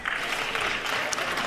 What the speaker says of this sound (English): do you even hear how they're clapping for her? She's getting like slow claps